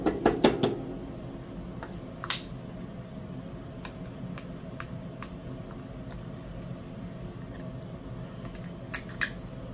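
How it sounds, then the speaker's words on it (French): A fingernail scraping leftover sticker label residue, giving a few quick scratchy bursts at the start, then sparse faint clicks and scrapes over a quiet room hum. "c'est qu'avec mon ongle, j'essaie d'enlever le reste de l'étiquette autocollante en fait"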